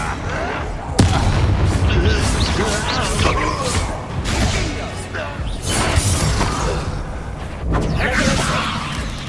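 Incendio fire spell cast in Hogwarts Legacy, loud bursting whooshes and crackling blasts amid chaotic combat booms and crashes, with voices speaking over the action.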